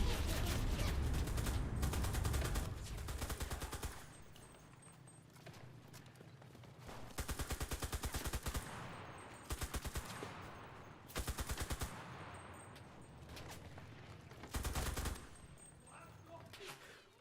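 Automatic fire from an MKb-42H assault rifle in the video game Enlisted, several loud bursts of rapid shots separated by quieter stretches, with distant battle noise underneath.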